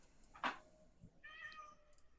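A person imitates a cat with a sharp, short meow followed by a longer, drawn-out mewing call, close and fairly loud over a quiet background.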